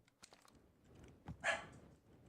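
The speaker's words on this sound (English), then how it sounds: "Sorry about the dog." A dog barks once, a short muffled bark at a distance in a quiet room, preceded by a few faint clicks.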